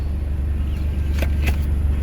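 Steady low engine and road rumble from inside a moving Honda Civic Turbo, a continuous close drone with a couple of brief faint clicks, no voices.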